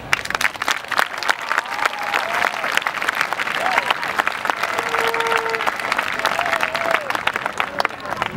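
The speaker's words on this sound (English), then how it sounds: "please join me in giving them a round of applause" A crowd at the Castro Valley High School 2013 graduation ceremony breaks into loud, sustained applause, with scattered cheers and whistles rising over the dense clapping throughout.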